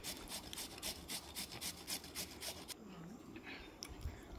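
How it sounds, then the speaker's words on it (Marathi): Washed carrots rub against a hand grater in quick, rhythmic rasping strokes, about ten in the first few seconds. The strokes are quiet and close, with a softer scrape and faint handling noise after them. "आता गाजर धुवून किसून घेते मी"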